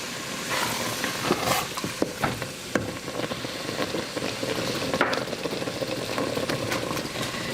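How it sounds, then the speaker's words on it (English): Brunswick stew with tomatoes and ketchup being stirred in a pot, a steady wet scraping and sloshing with faint sizzling underneath, continuous and close with a few sharper spoon knocks. "stir it, the tomatoes will break up"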